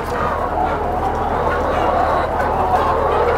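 Lohmann Black roosters and hens at a parent-stock poultry farm cluck in a dense, continuous flock murmur, close and busy, without clear speech.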